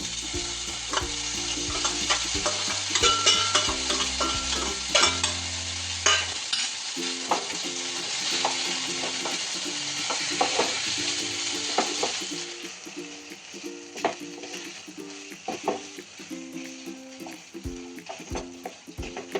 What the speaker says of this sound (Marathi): ह्यामध्ये खवा थोडा चांगला भाजून घेते.